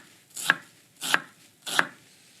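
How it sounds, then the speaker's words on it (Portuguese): A knife chops a small onion on a board in three evenly spaced, crisp strikes, close and clear with nothing else heard. "Picar um pouco de cebola. Aqui uma cebola pequena."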